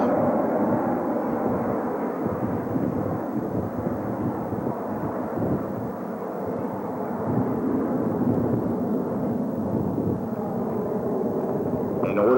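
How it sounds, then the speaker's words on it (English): McDonnell Douglas FA-18 Hornet jet performing horizontal rolls at an air show, a steady distant roar of jet engine noise with wind rumble, sustained and even throughout. "In order to demonstrate the tactical roll rate of these McDonnell Douglas FA-18 Hornets"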